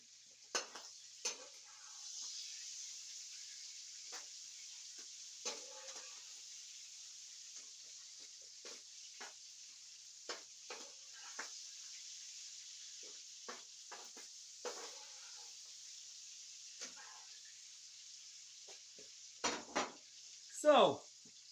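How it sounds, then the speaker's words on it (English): Chicken hearts seasoned with chili powder sizzle quietly in a pan under a steady faint hiss, with scattered light clinks and scrapes as they are stirred and tossed, and louder knocks near the end. "the chicken hearts are frying"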